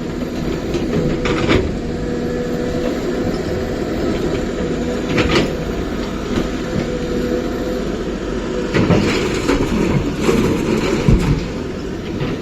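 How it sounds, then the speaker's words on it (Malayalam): A train rumbles past close by, a heavy continuous roar with periodic clanking bursts from the wheels and cars. "ഇതേ ഇപ്പം അങ്ങോട്ടേക്ക് ട്രെയിൻ പോകുന്നു"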